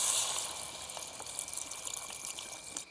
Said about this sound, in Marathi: पाणी घेऊया.